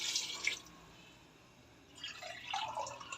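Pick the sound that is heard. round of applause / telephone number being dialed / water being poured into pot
water being poured into pot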